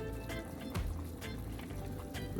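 Coconut milk pours into a pot of simmering Jamaican cow foot stew, a steady liquid splash and bubbling close by, continuous throughout with no talking.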